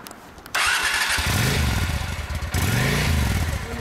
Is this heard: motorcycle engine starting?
yes